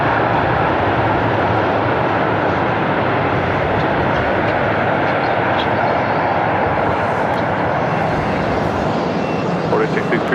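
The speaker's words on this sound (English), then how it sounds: "This is Alaska Airlines 1048 coming in from Seattle on a 737-900ER." An Alaska Airlines Boeing 737-900ER landing at LAX from Seattle, a loud, continuous close jet roar that fills the whole stretch evenly, with a voice faintly in the mix.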